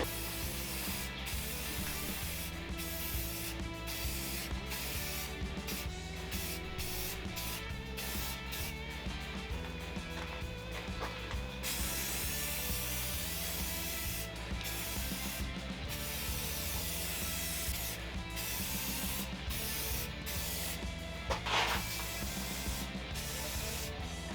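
Rust-Oleum 2X satin black spray paint hissing from a can in long, continuous bursts, broken by short pauses and faint rattling, up close and steady throughout.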